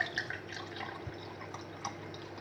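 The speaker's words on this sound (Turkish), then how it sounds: "bunun içine sudan birazcık koyayım" Water poured from a small container into another at home, a soft trickle with a few light drips and splashes, close and fairly quiet.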